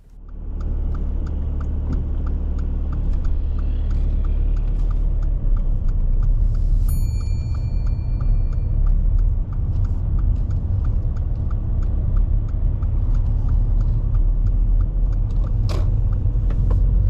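A car idles and creeps forward at a junction with a steady, low engine rumble and mechanical whir, plus a few faint ticks and a brief high chime midway, with no voices.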